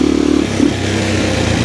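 A 1993 Husqvarna 610WXC motorcycle engine revs loud and close, a steady throbbing drone with a brief rise in pitch partway through, heard alone.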